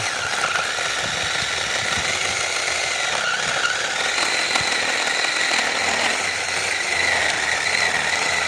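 A cordless battery-powered Bull BL 504 mini chainsaw cutting hard wood in a garden, giving a steady high-pitched motor whine with gritty cutting noise, continuous and fairly close.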